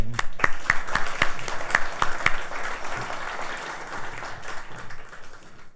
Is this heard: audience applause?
yes